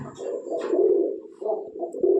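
Soft, throaty pigeon coos rolling in low, close, with a faint chirp in the background.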